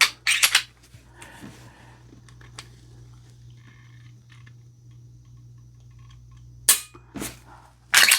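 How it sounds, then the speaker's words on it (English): Crisp, close clicks from a CZ P10 F pistol trigger being dry-fired and reset come in two short bursts, one at the start and one at the end, with near-silence between. "Let's do a little trigger test."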